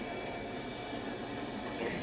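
A train moving in a video game, heard as a steady, faint rolling rumble with a faint squealing hiss, continuous throughout with no talk.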